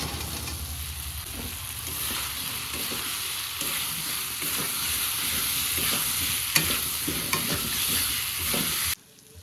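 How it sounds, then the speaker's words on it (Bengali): Loud, steady sizzling of fried potatoes being stirred into masala in a pan, with intermittent scraping stir strokes, cutting off abruptly just before the end. "এপার দেবো ভাজা আলুগুলো দিয়ে দেবো"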